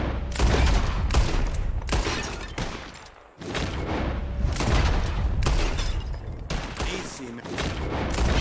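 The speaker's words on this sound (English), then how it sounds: "Who can shoot the most bottles? Just draw your gun and aim when you're ready." Gunshots ring out at bottles during a shooting contest in Red Dead Redemption 2. Several loud, sharp cracks come in quick succession, with a short pause partway through, and someone speaks briefly over them.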